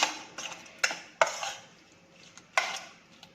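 Tiger prawns are tossed with salt and chili powder in a bowl, giving a run of irregular clinking and scraping knocks of a utensil against the dish, close and clear with no talk.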